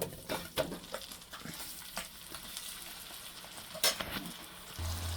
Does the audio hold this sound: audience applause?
no